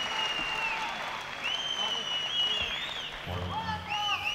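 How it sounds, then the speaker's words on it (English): Crowd applause and cheering fill a venue after an MMA bout won by triangle submission, a steady dense roar with whistles and shouts, under a ring announcer's voice speaking over it. "Big round of applause for Martin."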